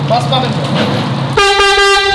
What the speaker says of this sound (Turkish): Buradan millattan kalma havalı korna.